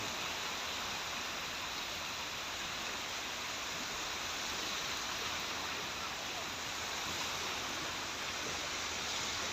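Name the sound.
sea waves washing on the beach at high tide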